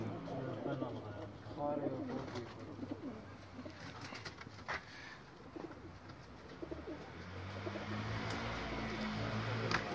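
Pigeons coo softly in repeated low, throaty calls while someone talks over them nearby, in a loose, irregular rhythm that persists under the speech.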